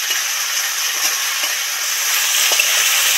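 Steady high hiss of spices and ginger frying in a hot pan, with a few faint scraping ticks, continuous and fairly close.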